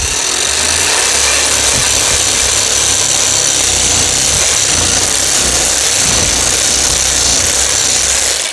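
A Tango 360 power sander runs at maximum speed on wooden shutters, giving a loud, steady, unbroken whirring hiss close up with no talk.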